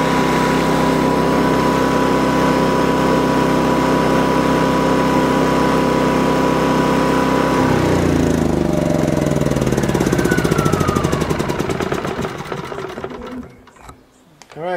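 A Champion 3400-watt dual fuel generator runs loud and steady nearby, then sputters and winds down to silence near the end as its fuel is cut off.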